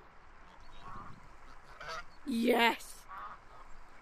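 A virtual duck in VRChat gives a single loud honking quack among faint background chatter and softer bird-like calls, with a person speaking briefly.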